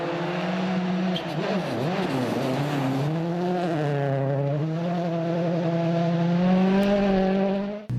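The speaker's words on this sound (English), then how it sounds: "Turbocharged Fiesta Regional Rally car working very well indeed." A loud turbocharged Ford Fiesta regional rally car engine roars continuously at close range, its pitch swooping up and down as it revs hard through gear changes.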